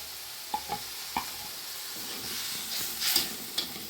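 Onions sizzle in a pan while being stirred, a continuous frying hiss broken by several sharp scraping clicks of the utensil, with no talking.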